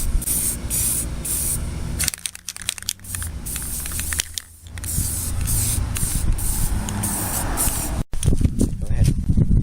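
Spray paint hisses in short light bursts onto a restored scout vise, with repeated loud sprays broken by brief pauses and small handling noises in between.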